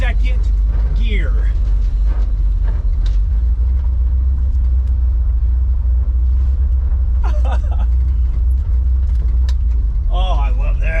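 An old Ford F100 pickup, left abandoned in a forest for over 25 years, drives in second gear, its engine a loud, constant low rumble filling the cab while people talk over it.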